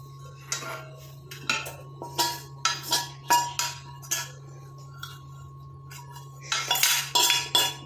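A bowl and metal strainer clink and rattle in a repeated run of sharp knocks while a herbal hair juice is filtered, with a steady low hum underneath and a busier cluster of clatter near the end.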